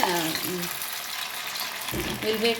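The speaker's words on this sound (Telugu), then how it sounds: "నూనె కాగింది ఇప్పుడు డీప్ ఫ్రై చేసుకోవాలి ఇట్లా ముక్కలు వేసి" Soya chunk pieces drop into hot oil for deep frying, producing a continuous bubbling sizzle nearby, with a person talking over it at the start and end.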